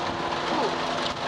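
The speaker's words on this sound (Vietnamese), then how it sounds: "Trời mưa rồi." Rain falling at an outdoor market in Vietnam, a dense, even patter of drops hissing steadily throughout, fairly close and continuous with no clear voices over it.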